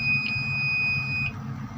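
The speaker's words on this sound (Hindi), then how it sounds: "ये आपने बीप सुनी, ऑन हो गया।" A UPS unit under repair gives a single steady electronic beep of about one second as it powers on, heard alone over a low background hum.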